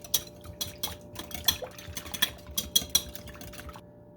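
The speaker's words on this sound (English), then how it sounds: "And then I'm gonna go ahead and mix everything." Sugar and a raw egg being mixed in a bowl, the utensil clinking and scraping against the sides in quick irregular strokes, close and fairly quiet, with no talking.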